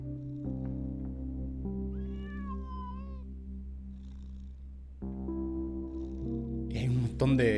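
A cartoon cat in a horror animation meows in several drawn-out, wavering cries over a steady low musical drone, with a sharp screech near the end.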